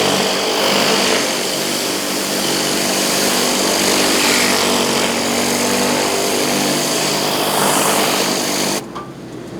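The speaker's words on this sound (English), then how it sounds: "All you hear is the generator running just a little bit." A generator drones steadily and loudly alongside a pressure washer spraying hot water, a dense continuous roar that holds without a break before dropping off abruptly near the end.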